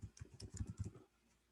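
Quick bursts of keystrokes on a computer keyboard, clacking rapidly and closely for about a second before falling quiet.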